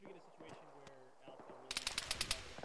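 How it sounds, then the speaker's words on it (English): Bursts of heavy machine gun fire ring out in an ArmA military battle game, a rapid string of loud, sharp shots coming in quick succession after a stretch of quieter background sounds and brief voices. "Heavy gun north."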